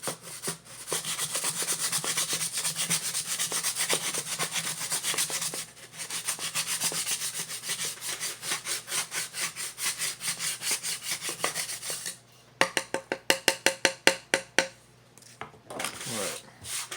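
A stick scrapes back and forth inside a wooden Native American style flute tube, long sustained rasping strokes that break near the end into a quick series of sharp catching scrapes, close and alone without speech.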